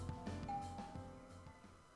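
A short electronic doorbell chime sounds in a visual novel game, a single bright ding over soft steady background music.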